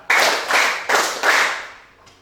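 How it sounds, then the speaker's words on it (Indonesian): A classroom of students claps four times in steady unison, each crisp group clap evenly spaced and ringing briefly in the room before fading. "tepuk 4."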